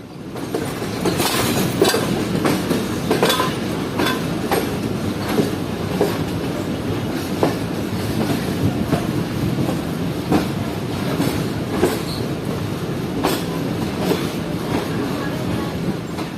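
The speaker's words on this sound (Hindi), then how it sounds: "one up Khyber mail express AG 306029 के साथ पहुंच रही है मुल्तान कैंट रेलवे स्टेशन के प्लेटफॉर्म नंबर 3 पर" The Khyber Mail Express rolls into Multan Cantt railway station, a loud continuous rumble of wheels with rhythmic clickety-clack over rail joints and occasional squeals, heard close from the platform.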